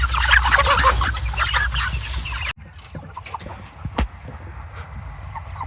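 Farm chickens cluck loudly and continuously at close range as they are loaded into a cart, with a dense, busy flock sound that suddenly drops to quieter scattered clucks and rustling.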